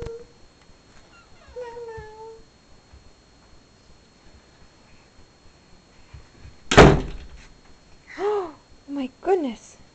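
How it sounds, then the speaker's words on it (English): A single loud door slam, sharp and close, with a voice chattering briefly before and after it. "you shut the door really hard"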